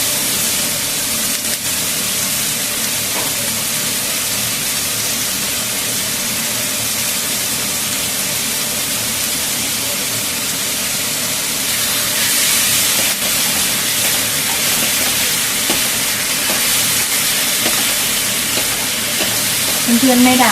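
Udon noodles, two packs, stir-fried in a pan over low heat for a yakisoba-style dish, giving a steady, even sizzle with soft stirring scrapes throughout and no talking.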